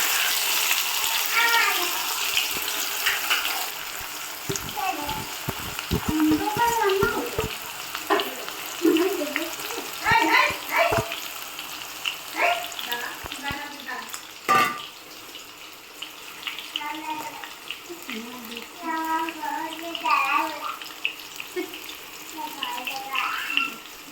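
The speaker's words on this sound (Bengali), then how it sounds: "পেঁয়াজগুলো এখন আমরা লাল লাল করে ভালো করে ভেজে নেব।" Chopped onions frying in a pan with a dried red chilli and sugar while cooking duck meat, giving a continuous bubbling sizzle with occasional stirring knocks and scrapes, and a voice speaking now and then over it.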